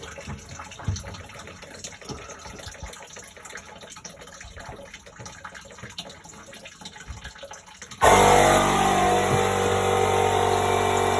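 Water draining from the open drain point of a Baxi Duotec boiler: a faint trickle and clanks at first, then an abrupt loud, steady rush of flowing water that continues to the end.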